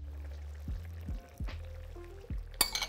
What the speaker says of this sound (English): Okay, so I'm gonna add the first time. Okay, then second time.